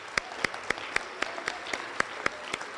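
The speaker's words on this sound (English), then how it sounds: "But a round of applause for the people who read all those papers." Sparse applause from a small audience at a regional science fair awards ceremony, a handful of distinct, crisp claps spaced out over a few seconds, fairly quiet and with no voices over it.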